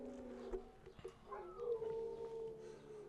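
A dog howls at a passing ambulance in a drawn-out, wavering tone, fairly faint, with a few small yips around it.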